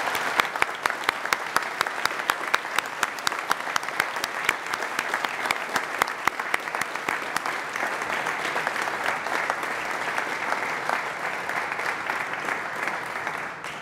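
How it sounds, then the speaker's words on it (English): Sustained, loud applause from a gathered crowd at an outdoor ceremonial opening of the Amazon Spheres, many hands clapping steadily for the full length with no talking. "let's take a moment to give these teams a round of applause"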